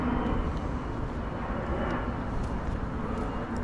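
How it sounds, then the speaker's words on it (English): Airplanes fly overhead, a steady broad roar of jet engine noise that holds loud and unbroken throughout, with no speech on top. "There's a lot of planes coming in."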